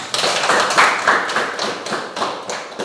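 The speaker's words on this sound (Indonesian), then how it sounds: "Oke, tepuk tangan." Students in a Grade 10 classroom clap their hands together, a short burst of fairly close, uneven clapping that tapers off after a couple of seconds.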